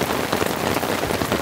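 Heavy, relentless rain drumming on a camping tent during a rainstorm, a close, loud, unbroken wash of dense drop impacts with no talking.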